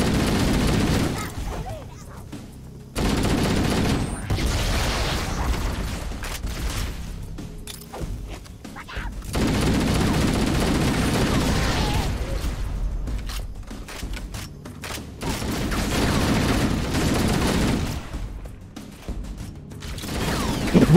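Gunfire and grenade blasts in Halo: Combat Evolved, loud bursts of shooting and heavy booms that come in several long waves with short quiet gaps between them, and some voices mixed in.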